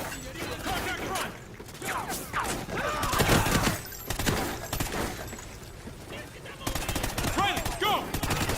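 Heavy automatic gunfire from a Call of Duty: Ghosts combat mission, with dense sustained bursts and bangs close by, while voices shout battle calls throughout.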